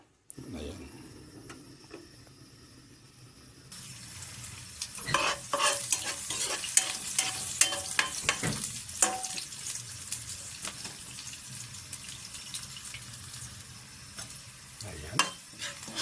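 Onion, ginger and garlic sautéing in a pan for native chicken tinola with papaya: a loud, crackling sizzle that swells after a few seconds, with repeated scraping and clanking stirs throughout and a faint voice in the background.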